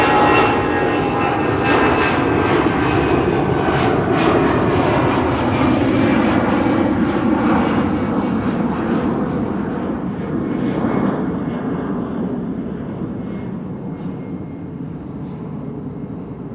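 Wide-body jet airliner taking off from runway 09 at Amsterdam Schiphol Airport, a loud sustained engine roar that slowly fades and drops in pitch as the aircraft climbs away.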